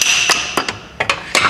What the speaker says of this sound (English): Some rust has settled in, so we're just gonna get a small hammer and try to hit it to get it